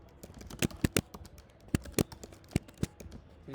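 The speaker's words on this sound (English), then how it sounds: "my keyboard typing, the sound is like crazy" Keys clack on a computer keyboard in irregular bursts of sharp taps, close by, with brief pauses between strokes.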